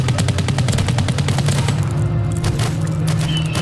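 Rapid bursts of pistol fire crack out in a Halloween video game, shots stacking into dense volleys over a droning game soundtrack, loud and close, with no talk.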